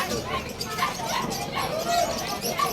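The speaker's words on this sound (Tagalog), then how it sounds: "Andito ako sa paligid ng nakapaikot sa akin ng mga dogs." Dogs bark and yip among other pets at an early-morning pet market, the barks fairly faint and scattered beneath someone talking nearby.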